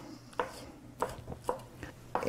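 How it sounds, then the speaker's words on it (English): Escargot being chopped into pieces on a cutting board, four or five crisp, evenly spaced knife strikes, close and fairly quiet, with no talking. "I'll cut some of them in pieces"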